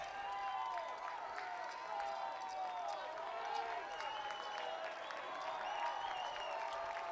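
A rowdy crowd and noisy dugouts at a 6A high school baseball tournament game between Corner Canyon and Skyridge: steady, distant cheering, clapping and shouting voices that keep up a constant din.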